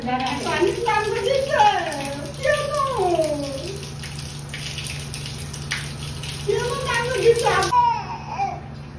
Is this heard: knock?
no